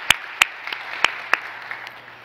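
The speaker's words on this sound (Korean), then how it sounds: "그 하나님 앞에 우리 감사의 박수 올렸으면 좋겠습니다." Scattered hand claps from a church congregation during a Sunday worship service, a handful of sharp separate claps spread over about two seconds rather than a sustained ovation.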